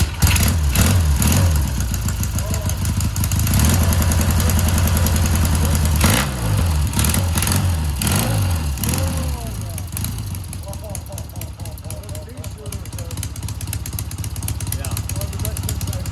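A 1973 Triumph Tiger motorcycle engine idling nearby with a low, throbbing, uneven rumble that falters and picks up again, while voices talk over it.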